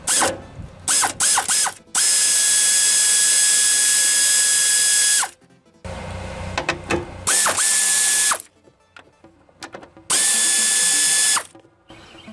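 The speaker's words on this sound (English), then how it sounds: "It takes an 8mm deep well socket." Ratchet with an 8mm deep well socket working on a 2013-2014 Subaru Outback fuel pump, rapid clicking bursts alternating with longer steady whirring runs, loud and close, starting and stopping several times.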